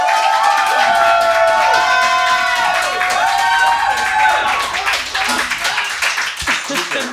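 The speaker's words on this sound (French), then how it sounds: "Vous pouvez applaudir." A French television studio audience claps and cheers loudly for several seconds, with shouts and scattered voices riding over dense, sustained applause that thins toward the end.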